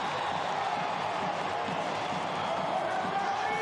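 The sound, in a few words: basketball arena crowd cheering as Rwanda narrows the gap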